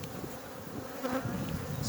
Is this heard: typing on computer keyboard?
no